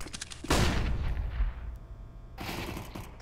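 A flashbang goes off in a tactical shooter game as a sudden loud blast that decays over about a second, followed by a quieter stretch and then renewed noise near the end.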